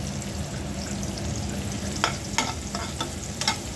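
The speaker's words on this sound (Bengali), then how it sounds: "মাছ ভাজার উপর দেওয়ার জন্য একটু পেঁয়াজের ব্যবস্থা করে নিচ্ছি। দিয়ে দিচ্ছি কাঁচামরিচ।" Fish sizzles steadily in hot oil with onions and green chillies, a dense continuous crackle punctuated by a few sharp clinks and scrapes of stirring near the end.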